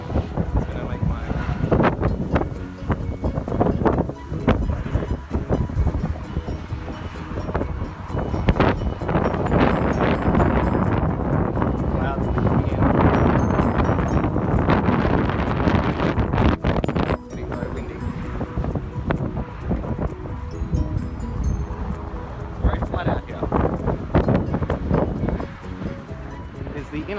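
Steady wind buffets the microphone at a coastal lookout near Koo Wee Rup overlooking an inlet of Western Port Bay, a continuous loud rushing roar with gusts that lasts throughout, while a person talks over it.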